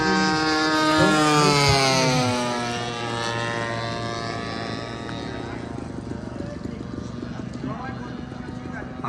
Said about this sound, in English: here comes a full-size plane